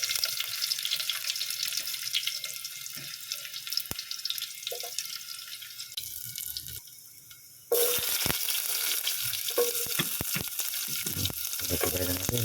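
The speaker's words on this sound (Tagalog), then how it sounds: "Igigisa mo natin yung sibuyas, bawang, at saka yung kamatis." Onion, garlic and tomato sauté in hot oil for a mung bean stew, giving a continuous hissing sizzle with scattered crackles and stirring clatter. The sound briefly drops, then returns louder and close.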